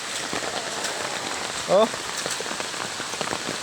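Steady rain patters on a surface in a dense, even hiss during flooding, with a brief voice exclaiming partway through.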